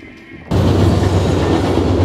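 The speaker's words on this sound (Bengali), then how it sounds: "ট্রেন একটা এদিকে গেল, আর একটা ট্রেন ওদিক থেকে আসতেছে" A train passes at close range near a road jam at a railway crossing: a quiet half-second, then a sudden, loud, steady roar and rumbling clatter of wheels that fills the rest of the clip.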